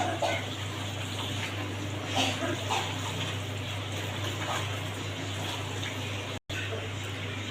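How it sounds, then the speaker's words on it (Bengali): A steady wash of water splashes and trickles as hands are rinsed in a little water while cooking Qurbani beef, continuous and close with a brief dropout near the end. "হালকা একটু পানিতে আমার হাতটা একটু ধুয়ে দেবো।"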